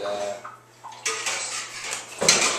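A spoon scraping and clinking in a dish while mixing pork filling, with a few metallic knocks and a louder clatter near the end, close up under a brief voice.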